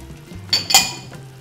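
Red and green bell peppers stirred in a frying pan, a couple of sharp metallic clinks and scrapes of a utensil against the pan over a faint sizzle, with no talking.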